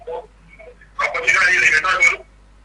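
Telephone line opened for a live caller on a radio broadcast, a narrow tinny phone-filtered voice and line noise, with a brief faint tone before a louder stretch of compressed call audio.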